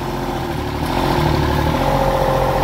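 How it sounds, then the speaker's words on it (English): A machine's engine idles steadily and close by as it is being worked out of a hole, a continuous low chugging drone that swells slightly louder partway through. "we just wanted to make sure that you hear that the engine sounds good"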